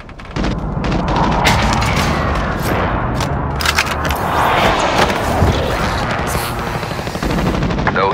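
Airstrike explosions and heavy gunfire in Call of Duty: Modern Warfare on the Duro Puneta map, with loud, dense bursts of blasts and rapid shots sustained for several seconds at close range, no talk.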